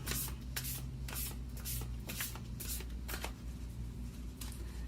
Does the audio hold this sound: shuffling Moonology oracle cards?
yes